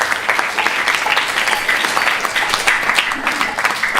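Crowd applause at an ISKCON temple gathering for Balaram Jayanti, a full round of clapping from many hands, loud and continuous throughout.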